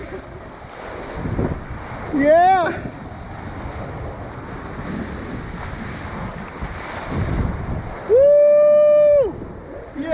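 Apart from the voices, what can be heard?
big ocean waves with wind at a kiteboarding beach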